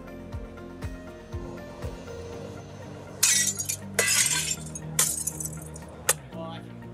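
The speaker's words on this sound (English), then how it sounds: "I'm gonna do some glass breaking." Several bursts of glass shattering and tinkling fragments, loud and close, following a stretch of low background hum with faint clinks.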